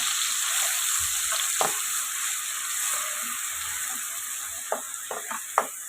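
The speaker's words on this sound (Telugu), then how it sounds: "ఆయిల్ వేడైందండి ఇప్పుడు అల్లం వెల్లుల్లి పేస్ట్ వేస్తాను అదే ఉల్లిపాయ ముద్ద ఫ్రై చేసుకున్నా" Ginger garlic paste and onion paste frying in hot oil for a fish curry, with a steady close sizzle throughout and a few sharp spatters and stirring knocks near the end; no talking.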